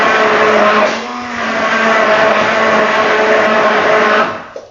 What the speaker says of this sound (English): I've kind of stirred it with my blender, and it's kind of mixed the oil in now as well